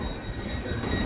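A train at a station on the London to Cardiff route rumbles steadily with low rolling wheel noise and a faint squeal, close and continuous over the short span.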